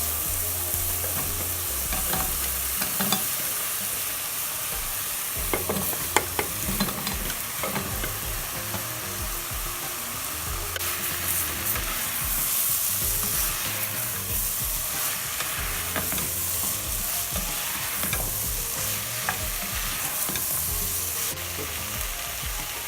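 Leeks, onion and potatoes sautéing in a soup pot, a continuous sizzle with repeated stirring scrapes and spoon knocks, close and steady, without talk.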